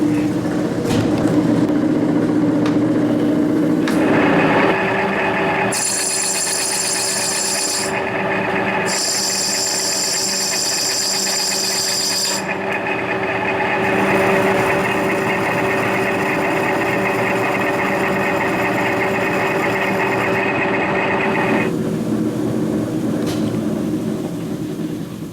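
A lathe tool rough-bores a Moto Guzzi rear main bearing, giving a steady, loud machining whine with shifting high-pitched cutting tones and brief changes in pitch throughout, with no speech.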